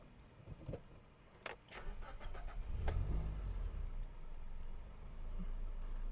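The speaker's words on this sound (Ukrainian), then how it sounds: "І так, перевірка роботи двигуна." A 2005 Toyota Avensis engine cranks and catches, then settles into a steady low idle, with a few key jingles and clicks before it starts.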